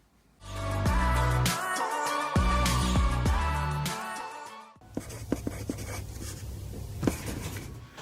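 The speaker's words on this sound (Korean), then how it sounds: "편지를 써볼게요" A pen writing a letter on a Desmet postcard, close scratchy strokes in short bursts and pauses, with a brief soft whisper of movement near the end.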